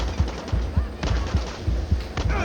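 Gunfire in the video game Far Cry 6, a rapid run of sharp automatic shots in a steady rhythm, close and loud, with game ambience beneath.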